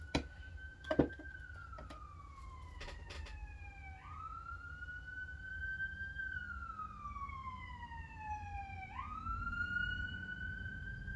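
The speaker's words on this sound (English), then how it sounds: "I've been hearing there's another ambulance" A wailing ambulance siren rises and falls slowly in long sweeps, heard from a distance over steady traffic rumble, with a couple of brief knocks near the start.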